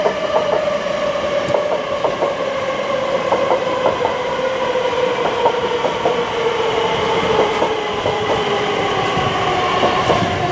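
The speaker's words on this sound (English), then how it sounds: "There's one just coming in here" A TfL train pulls into a London station with steady rumbling, rhythmic wheel clicks over rail joints and a faint squeal, heard continuously at close range with no talk.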